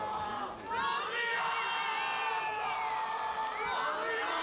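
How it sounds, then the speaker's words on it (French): Crowd at a behourd tournament, the full-contact medieval armoured combat event, cheering and shouting encouragement in a dense, continuous roar of many voices, with high whoops rising above the wash of noise. "c'est sous des cris d'encouragement que nous arrivons au dernier combat"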